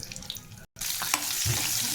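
Onions dropped into hot oil with tempering seeds and dried red chilli, a broad continuous sizzle that starts after a brief silent gap and stays loud and steady, with a small clatter partway through.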